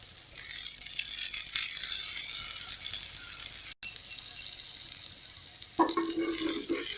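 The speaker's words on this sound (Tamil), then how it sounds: "இப்போ சுற்றி கொஞ்சமாக ஆயில் விட்டுக்கலாம்." Yam and raw banana pieces roasting in oil on a tava give a steady, close sizzle with faint stirring scrapes, a brief dropout midway and a louder burst of crackling near the end.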